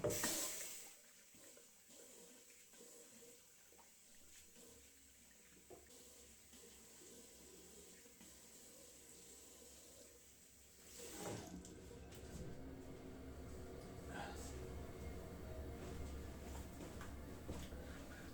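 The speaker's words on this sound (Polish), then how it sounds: "Zwilżam twarz ciepłą wodą." Warm water runs from a faucet into a sink while a face is wetted, a steady close hiss that swells and splashes louder partway through, with no talk.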